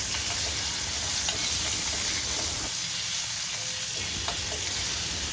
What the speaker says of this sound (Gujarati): અને હવે તેમાં આપણે ગુંદા નાખીને હળવા હાથે તેને ચમચી વડે મિક્સ કરી લેશું.